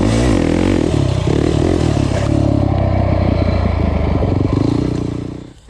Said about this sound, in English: all you have to do is gas it and pop the clutch